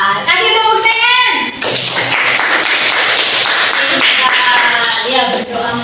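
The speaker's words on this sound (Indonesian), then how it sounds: "kasih tepuk tangan" Audience clapping after a recited pantun at an Islamic education event, broad rhythmic clapping that fills the stretch, with children's voices and speech mixed in at the start and end.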